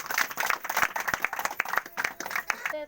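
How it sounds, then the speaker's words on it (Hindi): A church congregation at a Friday morning prayer meeting claps loudly in a brisk, slightly uneven rhythm of sharp handclaps, dense and close throughout. "इसलिए जोरदार ताली से प्रभु को धन्यवाद"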